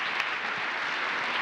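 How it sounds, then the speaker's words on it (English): Brief, dense, steady clapping from a conference audience at a vocational excellence forum, a full wash of many hands with no talk over it. "A big round of applause"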